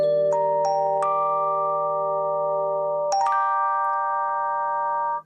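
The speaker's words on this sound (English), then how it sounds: "that's where you get the real chimey bell sound" A keyboard plays a chimey, bell-like tone with the treble turned almost all the way down, sounding as a few sustained chords that ring on clearly with no other sound.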